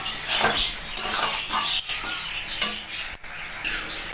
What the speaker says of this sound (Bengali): এটাকে দিয়ে আমি একটু নাড়াচাড়া করে নেব